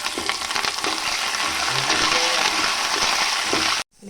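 Curry leaves crackle and sizzle loudly in hot oil alongside peanuts, chana dal and small garlic for puliyogare gojju, a dense close spitting that holds steady, then cuts off abruptly.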